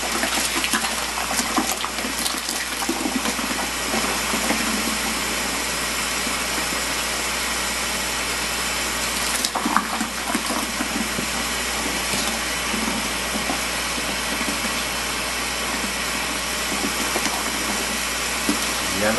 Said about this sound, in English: Rinse all that off.